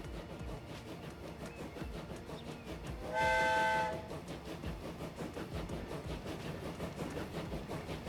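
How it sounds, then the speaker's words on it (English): Train in the Transport Fever 2 game rolling along with steady clattering rail noise, and a loud, clear horn blast of about a second sounding midway. No one speaks. "Let's watch our first train debut."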